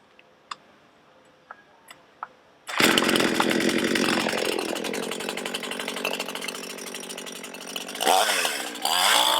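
An INGCO gas chainsaw is pull-started after a few scattered clicks, then roars loud and close with a steady buzzing drone that dips slightly and revs up again near the end.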